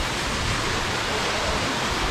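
Kozica waterfall in Bosnian nature, a steady broadband rush of falling water, close and continuous with no other sounds.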